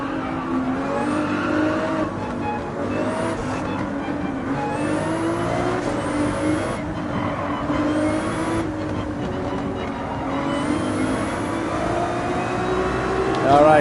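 A Ferrari in Gran Turismo 7 holds full throttle along a mountain highway, the engine whining high and steady with repeated upshift sweeps every second or two, a continuous loud drone under occasional tire noise.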